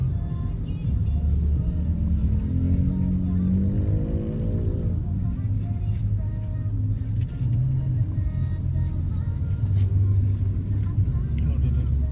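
Honda car with Honda Sensing driving along, a constant close engine rumble with a rising rev as it accelerates partway through, heard under people talking inside the cabin.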